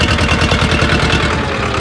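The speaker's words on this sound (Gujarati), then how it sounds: "ટ્રેક્ટર ચાલુ" A farm tractor's engine runs steadily in a field, a loud, close, continuous mid-low rumble with a rapid pulsing chug and no voices.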